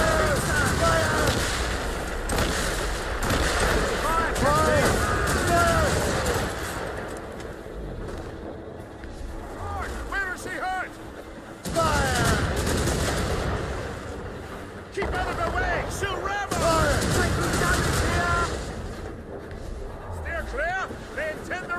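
Naval cannon broadsides from a sailing warship in Assassin's Creed Rogue, booming repeatedly in loud bursts over a dense battle din, with shouted voices mixed throughout.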